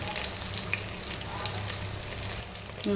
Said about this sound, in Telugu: తర్వాత క్యారెట్, ఇవన్నీ మంచిగా వేయించుకోవాలి